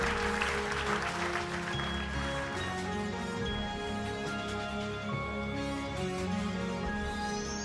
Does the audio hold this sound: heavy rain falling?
no